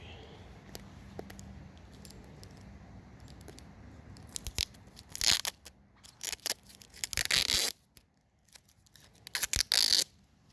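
Packing tape on a mailed package of hockey cards is cut and ripped away in several sharp, loud bursts of tearing and crinkling, alone against a quiet room.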